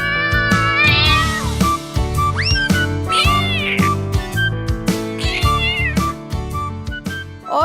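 Cartoon cats meowing repeatedly in a series of loud, close, drawn-out calls over steady background music, with no talking.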